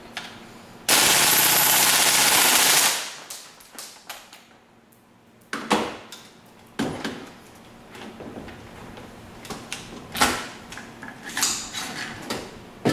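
A WE SCAR airsoft rifle with an open bolt system fires on full auto, opening with a loud sustained burst of about two seconds, then scattered clicks, clacks and handling noises follow at close range.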